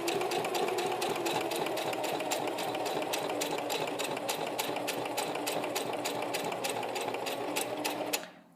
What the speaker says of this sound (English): So you put your presser foot down, and I'm just going to do a straight stitch.